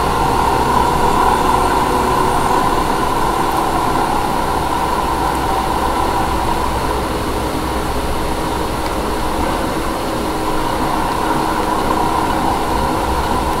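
A helicopter flies in the Ghost Recon Wildlands video game, a steady, loud rotor and engine drone that continues evenly without a break and with no talk.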